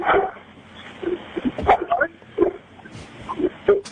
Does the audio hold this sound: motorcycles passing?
no